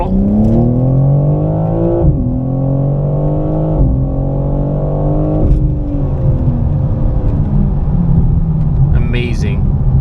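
A BMW M4 xDrive with all-wheel drive accelerates hard at full throttle. The engine note is loud and close, climbing through the revs with sharp dips at each gear change. A faint voice comes in near the end.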